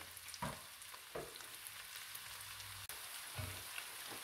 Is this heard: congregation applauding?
no